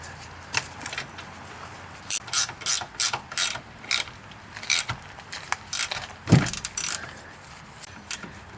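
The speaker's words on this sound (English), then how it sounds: "We have an 18mm nut on the bottom. Just got to break it loose." A hand ratchet cranks on an 18mm nut holding the outer tie rod end of a 1999 Pontiac Grand Prix, giving short bursts of rapid close clicking separated by pauses, with one heavier thunk partway through.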